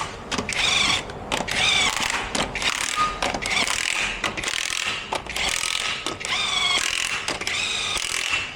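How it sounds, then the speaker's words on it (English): A low-setting electric impact wrench tightens the lug nuts on a 2006 Jeep Liberty during a front brake job. It sounds as loud, close, rattling hammering bursts, several in a row with short pauses between them. "I like to just use my electric impact on low"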